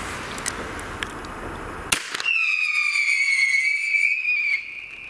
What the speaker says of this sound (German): Und das hier sind auch noch die Pfeifpatronen zum Schluss. Knallen mit den Pfeifpatronen, genau.